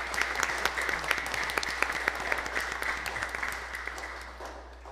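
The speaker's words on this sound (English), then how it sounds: "let's give Father Anthony a little round of applause" A school congregation applauds a priest during a Father and Child Mass. The clapping is fairly faint and even, thinning and fading out toward the end.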